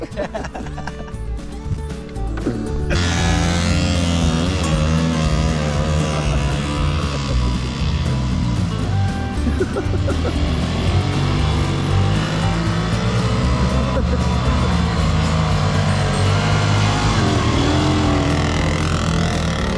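Small Cushman Trackster tracked vehicle's engine roars loudly and steadily after a quieter opening, revving as it drives off through a neighbor's yard, with voices partly mixed into the engine noise.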